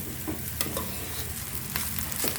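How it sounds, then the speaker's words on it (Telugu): A spoon repeatedly stirs and scrapes as hot cooked rice is mixed into a sizzling tempering for pulihora in a pan. Steady frying hiss runs underneath, broken by a few louder scraping strokes, with no talking. "ఇప్పుడు మంచిగా మిక్స్ చేసుకోవాలన్నట్టు, కింద మీద ఇట్లా మొత్తం మిక్స్ చేసుకోవాలన్నట్టు"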